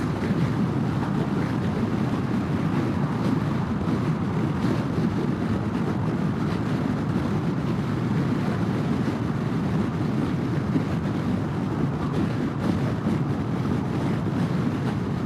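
Honda PCX150 scooter running full throttle on a highway into a headwind, with a steady loud roar of wind buffeting and engine drone throughout and no talking.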